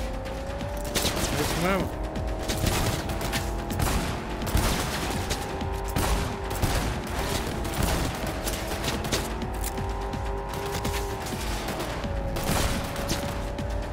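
Gunfire in the video game Cyberpunk 2077: dense, rapid volleys of shots going almost without pause over a steady humming drone, with someone talking briefly over the shooting.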